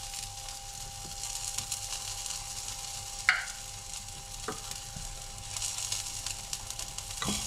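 Seasoned bass fillet with salt, pepper and lemon zest frying in a pan, a steady soft sizzle with occasional faint clicks and taps, close and quiet with no talking.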